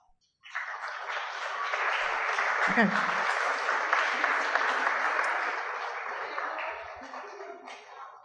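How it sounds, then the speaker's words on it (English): Family and friends stand to applaud at a college graduation ceremony, a crowd of hands starting abruptly after a brief word and rolling steadily in a large hall before tapering away. "Let's give them a round of applause."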